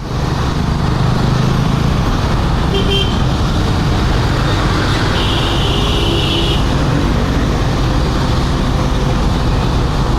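A heavily loaded truck's engine straining and roaring on a Manila road, a loud continuous drone amid traffic noise with a horn-like tone in the middle, heard up close.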